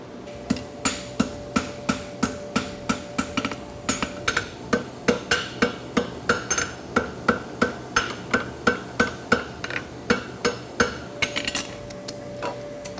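A blacksmith hammers a freshly forge-welded lateral bar horseshoe on the anvil to clean and flatten it, with overlapping blows landing in a steady quick rhythm of ringing metallic strikes, close and distinct, without talking.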